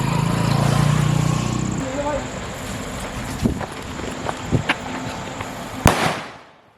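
A Black Cat sutli firecracker bomb set off outdoors, with a hissing fuse and wind, then several sharp bangs and a final loud explosion that echoes away.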